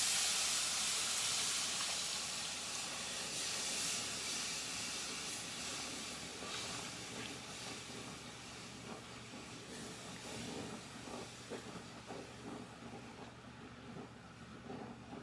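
Flour gravy made with broth comes to a boil in a large cast iron Dutch oven for pot roast, giving a steady close hiss of steam and bubbling that slowly fades, with a few light knocks.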